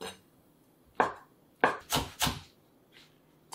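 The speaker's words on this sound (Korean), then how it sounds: "청양고추, 홍고추 이렇게 씹혀서 쫑쫑쫑쫑 썰어주세요" A knife chopping Cheongyang and red chili peppers on a cutting board: a few sharp, close taps, one alone, then a quick cluster of three, in a quiet kitchen.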